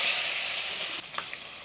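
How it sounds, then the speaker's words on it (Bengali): Magur catfish frying in hot oil, with a steady close sizzle for about a second before it drops away. A few soft spatters follow. "মাগুর মাছগুলো যদি ভাজা হয় ফটাস ফটাস করবে"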